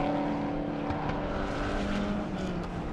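A turbocharged Mitsubishi rally car of around 550 to 600 horsepower at a 2013 IRC event roars steadily and loudly, its engine droning at sustained revs throughout, with no speech.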